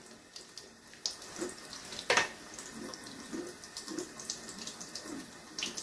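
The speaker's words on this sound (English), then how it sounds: "Just go around, give it a rinse." Water runs from a tap over a Ninja Blast portable blender as it is rinsed, a soft uneven splashing with a few brighter splatters, fairly quiet and close, with no one talking.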